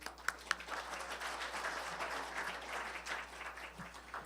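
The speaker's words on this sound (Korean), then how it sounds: "호명해 드리면은 큰 박수 부탁드리겠습니다." Quiet, continuous audience applause at a Daejeon cultural event as invited guests are introduced, a dense patter of many hands with a couple of sharper claps at the start, somewhat distant and soft.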